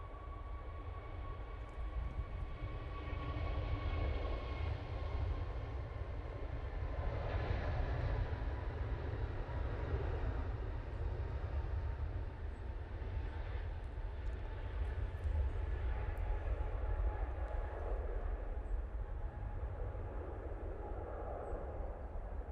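Emirates airliner taxiing at Manchester Airport, a steady low jet-engine rumble and whine holding at moderate distance throughout, fairly constant in level with no talk over it.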